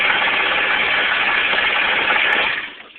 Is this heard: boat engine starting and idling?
yes